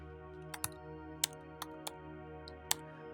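Commands being typed on a computer keyboard: six sharp, distinct keystrokes at an irregular pace over a steady low electronic hum, close and alone with no voices.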